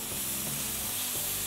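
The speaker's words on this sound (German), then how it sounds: "in unserer Pfanne rutschelt es." Food sizzles steadily in a frying pan as cream and ingredients for Potthucke are stirred and gently sautéed, a close, continuous crackle with soft scraping from the stirring and no talking.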